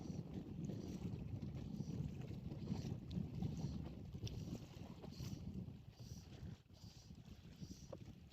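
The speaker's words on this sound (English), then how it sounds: "It is quite windy." Steady wind buffets the microphone on a boat during fly fishing, a continuous low rumbling roar with gusts that ease slightly toward the end, with faint water noise beneath.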